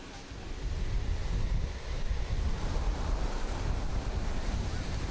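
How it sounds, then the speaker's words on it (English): Strong wind on a seacoast in southern China, near Dongfang, roars steadily as a loud, broad rush with buffeting gusts, mixed with surf, and nobody speaks. "the winds here are pretty strong"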